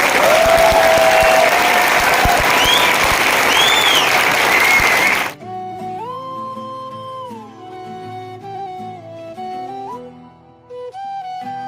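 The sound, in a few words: audience clapping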